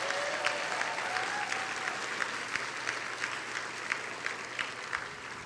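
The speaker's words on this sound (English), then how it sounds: "let's give Lynette a round of applause." An audience applauds at a hospitality convention's evening gala, a dense, steady patter of clapping from a roomful of people at moderate distance, holding throughout with a few sharper claps.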